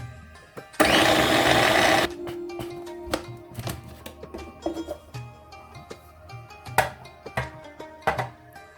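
A kitchen blender whirs loudly in one short burst of about a second while blending mince for homemade doner kebab, followed by quieter clinks and knocks of handling.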